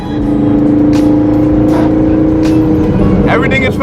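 Twin-turbo 2012 Ford Mustang Boss 302 pulling through fourth gear, a loud, continuous engine roar climbing slowly in pitch, close and dominant, with a voice briefly heard over it.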